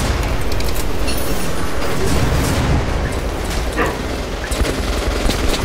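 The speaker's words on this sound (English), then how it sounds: "Machine gun." Sustained machine gun fire from Metro Last Light, loud and continuous, with dense rapid bursts and booming impacts running the whole time, no talk over it.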